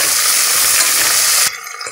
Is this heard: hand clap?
no